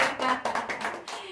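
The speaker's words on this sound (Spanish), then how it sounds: "Aplausos para la producción De de la Mexiquense." Applause for a production crew at a Mexican event, a steady burst of many hands clapping close and loud, with a voice faintly audible beneath.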